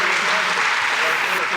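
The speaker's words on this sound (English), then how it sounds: "let's give them another round of applause" Applause from a chamber of commerce coffee gathering, a steady wash of many hands clapping, close and fairly loud throughout this brief moment.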